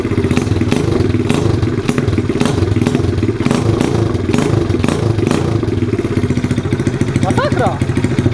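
A Loncin 125 motorcycle engine running with no exhaust fitted and a K170 stator swapped in, a loud, steady, rough mechanical roar that holds near and continuous throughout with rapid firing pulses.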